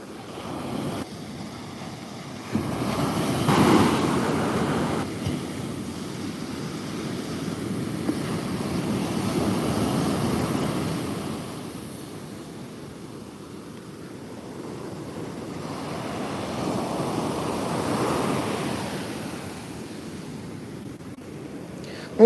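Sea waves wash onto the shore in slow swells, a broad rushing surge rising and falling under wind buffeting the microphone, with no voices.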